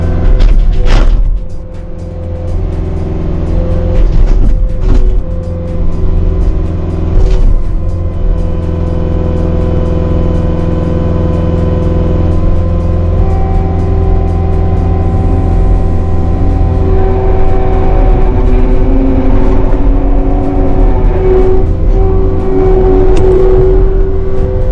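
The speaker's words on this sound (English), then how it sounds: "So I'm going to go fire up the skiddy and get the grapple on," A tracked skid steer loader fitted with a grapple runs close by, its engine holding a loud, steady droning rumble with slight rises in pitch throughout, and no voices.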